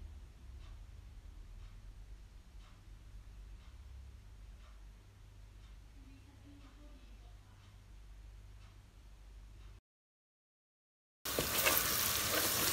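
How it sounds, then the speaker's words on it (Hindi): Onions with a pinch of salt fry in a pan for chicken curry, giving a faint, steady sizzle over a low hum, then a brief silence and a sudden louder burst at the end. "प्याज़ों को गोल्डन होने तक इनको पकाएंगे"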